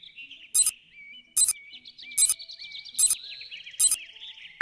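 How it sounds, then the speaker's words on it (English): In the Bokurano Daibouken 3 video game, the compact sonar wall-detection beep sounds as five short, bright bursts at even intervals over faint, high chirping game tones. "If the sonar detects a wall, it makes a sound like this."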